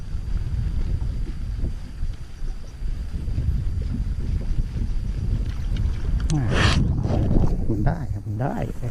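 A small fishing boat on open water during a lure-fishing outing, with steady wind buffeting the microphone and low rumbling water noise throughout, and a burst of splashing and handling noises near the end.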